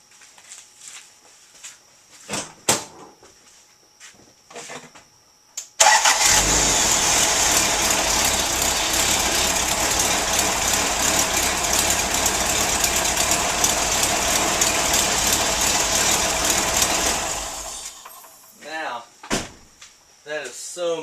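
A Toyota FJ60 with a Saginaw steering conversion starts up and settles into a loud, steady idle that runs for about twelve seconds before cutting off, with a few clicks and knocks before and after it.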